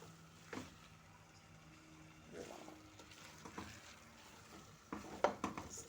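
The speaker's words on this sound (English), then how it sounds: "start stirring until it mixes" Pilau rice being stirred in a pot, soft scraping strokes and gentle sizzling at low volume, with a few sharper clinks and louder scrapes near the end.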